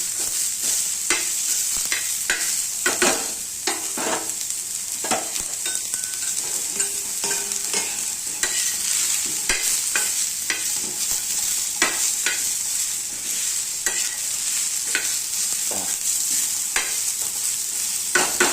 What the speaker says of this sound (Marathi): आणि आता लसूण पण त्याच्यामध्येच टाकायचं फ्राय व्हायला.